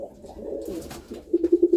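Pigeons coo in a close pair, a low rhythmic burst of five throaty pulses rising at the end after softer murmuring, heard alone and fairly near.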